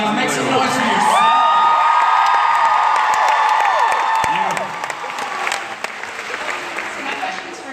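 A live crowd in Minneapolis claps and cheers loudly, with whoops and shouts over sustained applause that gradually thins out.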